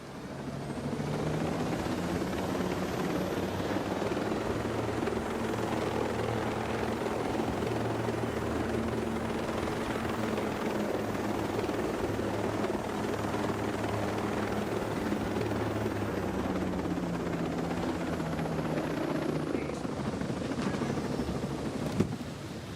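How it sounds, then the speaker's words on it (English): A helicopter in Ghost Recon Breakpoint runs steadily for the whole stretch, a loud, even rotor thump and engine drone that swells slightly and then settles. "Been a long time since I've had to steal a helicopter."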